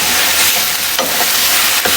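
Lentils with turmeric and coriander powder are stirred in a frying pan over a loud, close, continuous sizzle, with a couple of brief scraping strokes.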